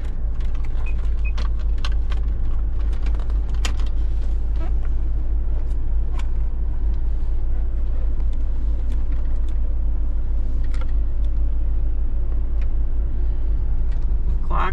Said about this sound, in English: Of course, we got a V8. This was a BMW derived V8.